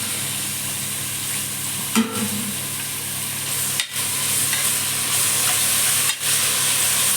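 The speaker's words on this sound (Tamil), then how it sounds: "2 பச்சை மிளகாவும் அது கூட போட்டு நல்லா வதக்கி விட்டுடலாம்." Onion, green chillies and tomato sautéing in a pan for vegetable rice, a continuous close sizzle and hiss with occasional stirring knocks, no talking.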